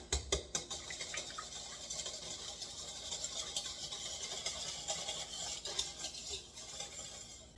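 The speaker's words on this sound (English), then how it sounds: "Okay, so now I have my whisk. I'm just gonna whisk this up." A whisk beating an egg with salt in a bowl for beignet batter, a quick rhythmic tapping and scraping that continues without pause at close range.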